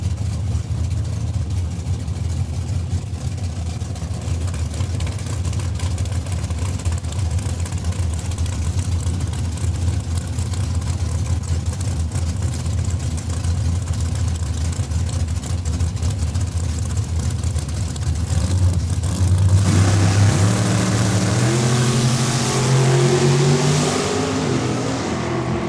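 A 1999 Chevrolet S10 drag race truck at Saskatchewan International Raceway in Saskatoon runs a steady loud engine drone that swells into hard rising revs near the end, with no talk over it.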